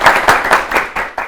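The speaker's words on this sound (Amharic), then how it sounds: "አጨብጭቡላቸው በድጋሚ።" Studio audience on an Ethiopian children's quiz show clapping for contestants, a steady run of close, bright hand claps in pulsing waves, no talking over it.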